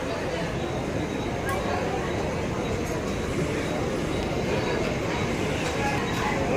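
Steady rumble of a local commuter train at a Bombay station platform, constant rolling noise with faint station chatter in the background.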